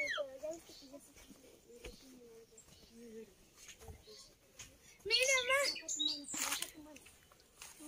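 Small birds chirp in quick high tweets in a ravine, with a louder burst of calls toward the end, while people talk quietly nearby.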